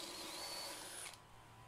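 A Rockwell brushless 20V compact drill whines as it drives a step bit through metal, a high steady motor pitch that drops away abruptly as the trigger releases, close and alone.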